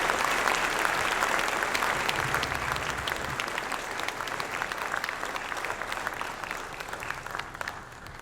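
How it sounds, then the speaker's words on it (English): Sustained audience applause for a panel at an energy industry leadership forum, loud at first and slowly thinning out over several seconds, with no speech over it. "Can I get a round of applause for this fantastic panel?"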